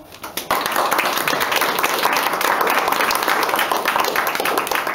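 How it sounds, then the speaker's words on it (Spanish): An audience bursts into applause at a short-story prize ceremony after a quiet start, then keeps clapping steadily and fairly close for several seconds. "Un aplauso."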